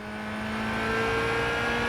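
Race car in Gran Turismo 5 accelerating at full throttle, a steady rising engine drone with strong harmonic whine building in loudness over two seconds, close and continuous with no talk.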